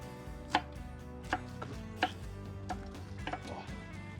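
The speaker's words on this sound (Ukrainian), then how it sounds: "де ми будемо нарізати той щавель, без якого Зелений борщ не борщ" Knife chopping sorrel leaves on a board for green borscht, a few sharp, spaced cuts over steady low background hum, close and moderately quiet.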